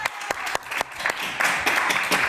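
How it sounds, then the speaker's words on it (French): A radio studio audience claps briefly, with sharp individual claps building into a short burst of fairly close applause. "On peut l'applaudir."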